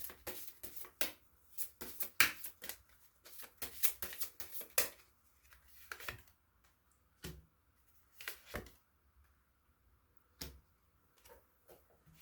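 Tarot cards being shuffled by hand in a quiet room, a dense flurry of soft papery riffles and flicks that thins into scattered separate taps and slides, close and faint, with no talking.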